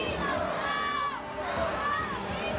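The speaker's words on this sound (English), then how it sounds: "Massive crowd on hand here tonight for Game 5 of the Fred Page Cup Finals." A big crowd fills a hockey arena at Game 5 of the Fred Page Cup Final, Penticton Vees against Surrey Eagles, with steady loud cheering and shouting, and whistle-like tones rising and falling over the roar.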